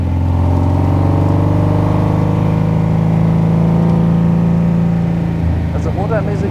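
A 1938 BMW 328 Roadster's engine drones steadily while driving, a close, loud, even hum that shifts slightly in pitch toward the end, with a voice speaking over it.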